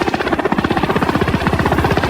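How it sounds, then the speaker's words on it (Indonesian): A helicopter flies close and loud, its rotor thudding in a fast, steady beat throughout with no talk over it. "Joker dan Raptorman pun berangkat menggunakan helikopter"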